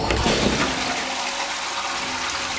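Short, close toilet flush with a strong rushing gush of water that quickly tapers into trickling refill.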